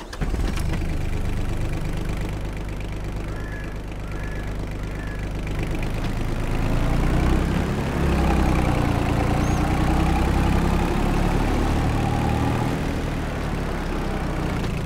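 Small Antonio Carraro tractor engine idles steadily in Farming Simulator 22, a continuous low mechanical drone with a slight rise partway through, close and loud, no talking.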